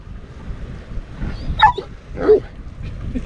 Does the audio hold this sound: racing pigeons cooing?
no